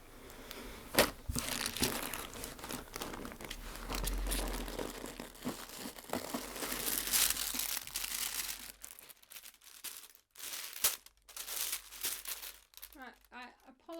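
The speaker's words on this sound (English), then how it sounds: "I apologise for the rustling" Rustling and crinkling of a plastic yarn package handled close by, with repeated crumpling bursts and someone talking over parts of it.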